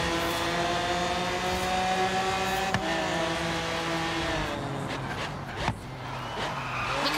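In the racing game Forza Horizon 3, a car engine drones loudly and steadily while its tires squeal and skid under hard braking, with a couple of sharp knocks toward the end and no talking.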